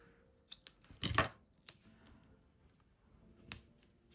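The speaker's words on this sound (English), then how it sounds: "just go in and snip it at a corner, at an angle" Scissors snip the corner of sticker paper at an angle during Halloween crafting, giving a few quiet, sharp clicks with a louder cluster of cuts near the middle and one more near the end.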